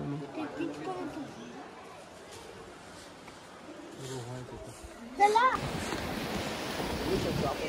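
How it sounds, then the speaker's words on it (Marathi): Sea waves roll in on the Konkan coast beach at Ganpatipule with a low, windy wash, then one wave crashes loudly partway through and the surf stays strong. People talk throughout. "लाटा बघा किती जोरात येतात."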